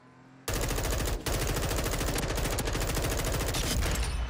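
Loud, sustained automatic gunfire from a Warzone 2 match bursts in suddenly, firing fast and continuous with one brief pause before it resumes.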